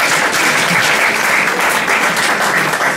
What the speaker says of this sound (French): On applaudit le Seigneur, s'il vous plaît.